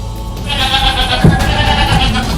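A goat tied inside a forest-department leopard trap cage in the jungle bleats loudly and close, one wavering cry set against steady background noise.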